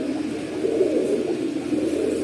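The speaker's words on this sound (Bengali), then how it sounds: "এখানে এক পেয়ার কবুতর আছে মুসালদম ফিঠা" A pair of black Mukhsi (Musaldom) pigeons cooing at close range, with a continuous low throaty murmur and warbling coos held steadily throughout.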